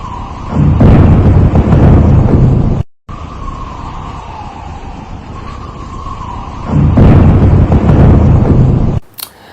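Loud, heavy blasts and rumbling roar from Iranian missile strikes hitting Tel Aviv, with two sustained explosive bursts separated by a quieter stretch of distant rumble.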